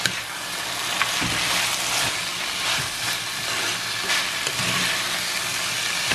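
Long beans and tomato fry in a pan, giving a dense, steady sizzling hiss with occasional soft knocks from stirring.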